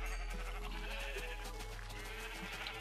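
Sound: sheep bleating in the video game Minecraft

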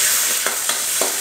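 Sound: shrimp being stir-fried in a pan

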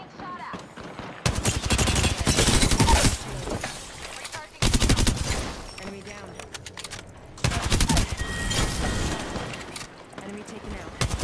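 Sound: gunfire in the video game Apex Legends

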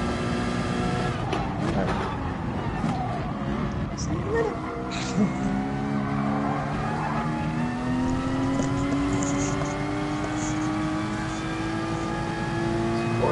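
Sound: race cars revving and skidding in a PS4 racing video game

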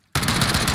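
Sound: gunfire in the video game Warzone

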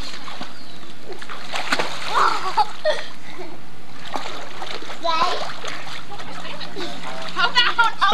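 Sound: splashing in water while swimming

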